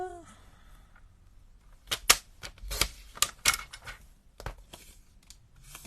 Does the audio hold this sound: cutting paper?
yes